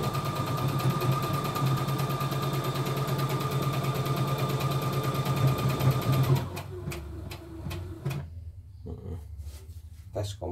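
CNY E960 embroidery machine stitching a test pattern, a fast steady loud mechanical whir for about six seconds that stops abruptly, followed by a few clicks and light handling sounds with a voice talking.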